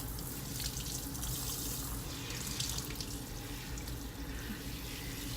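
Water running steadily through hair while bleached frontal or closure hair is rinsed under a tap, a close, continuous splashing flow with no pauses and no speech.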